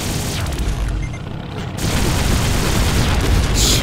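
Heavy gunfire and booming explosions from the first-person shooter Doom with the Project Brutality mod pound continuously and loudly in dense, rumbling bursts with no pause.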